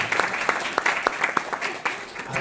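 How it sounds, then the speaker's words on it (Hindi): A church congregation claps loudly in praise of God's name, a dense burst of many hands clapping together in an uneven patter, close and steady, with a voice over it. "जोर से ताली जाकर परमेश्वर के नाम में।"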